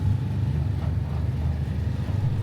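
A windowless open-sided car drives through the Mekong Delta, its steady low engine rumble and road noise continuous and fairly close, with wind and traffic wash layered over it.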